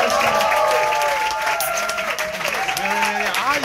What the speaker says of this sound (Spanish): Un fuerte aplauso para la gran Bárbara Caldo.